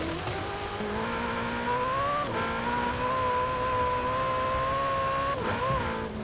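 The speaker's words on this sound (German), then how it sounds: "der Schaltvorgang, der hört sich ziemlich Ferrari-mäßig an" A racing car engine in the video game Forza Horizon 4 whines at high pitch, its tone dropping sharply at each Ferrari-like gear change before climbing again, loud and continuous.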